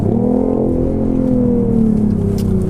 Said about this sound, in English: Ease onto the accelerator as you pull out.